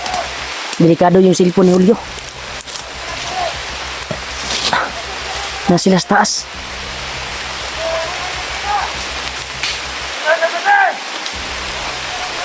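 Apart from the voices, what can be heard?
heavy rain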